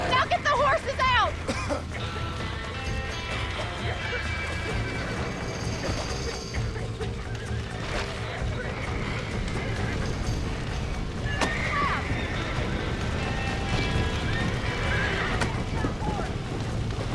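Horses in Red Dead Redemption neigh and whinny while hooves clip-clop steadily, with game action and other animal sounds in the mix and people talking over it.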